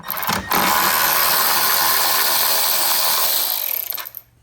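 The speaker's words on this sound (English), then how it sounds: "Now I'm gonna be using a 10mm socket to remove this bolt right here." A 10mm socket on a ratchet or power driver whirs a bolt loose on a Jeep Wrangler during a winch installation, with one loud steady mechanical run lasting about four seconds before it stops abruptly.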